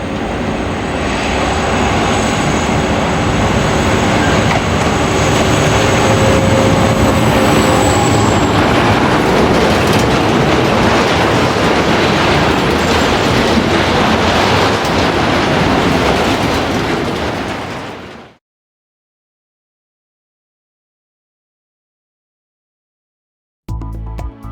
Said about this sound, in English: Finally, we see Europort's Voslo G1000 locomotive number 1026,